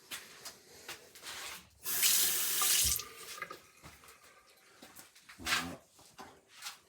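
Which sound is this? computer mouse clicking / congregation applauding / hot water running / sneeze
hot water running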